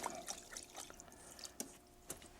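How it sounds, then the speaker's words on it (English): An old paintbrush is washed out in water, giving quiet, close sloshing with scattered dripping splashes. "Now then, let me wash that old brush out."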